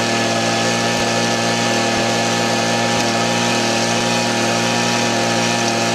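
A gold prospecting dry-washer machine runs steadily, bouncing its mat while a blower pushes air up through it. A continuous, fairly loud mechanical hum and rattle holds throughout, with faint regular knocks about once a second.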